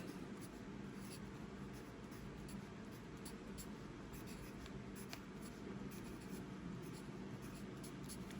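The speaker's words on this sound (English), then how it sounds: "what you want to write at the bottom of these envelopes is non-machinable" Pencil scratching across a paper envelope, writing at its bottom edge; a soft, steady scribbling texture runs continuously for several seconds, close and quiet, with no talking.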